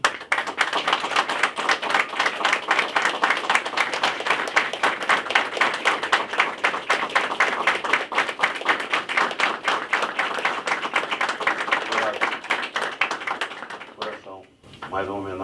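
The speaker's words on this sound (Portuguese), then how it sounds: "receber você aqui com um aplauso aqui de todo mundo" Sustained applause fills a press-conference room after a Fluminense football match: dense, even clapping from many hands holds loud for about fourteen seconds before thinning out, with some voices mixed in.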